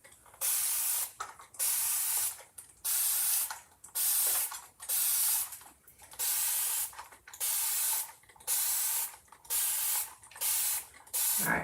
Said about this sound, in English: I am gonna spray these with water because they are ink and I do not want them to dry in my screen.